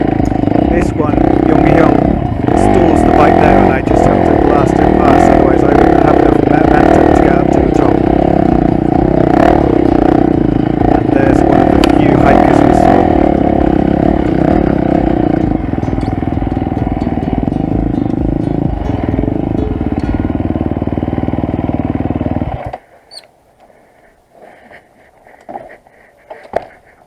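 A trail motorcycle climbing a mountain trail near Gangneung, its engine blasting loud and close with rough revving and clattering for about twenty-two seconds before cutting off, leaving faint scrapes and movement.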